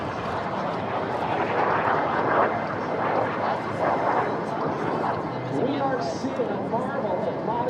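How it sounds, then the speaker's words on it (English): A tiny lightweight personal mini jet performs at an air show, its engine a continuous whooshing roar under an announcer's commentary over the public address. "see this very impressive performance in what is the world's smallest lightweight personal jet"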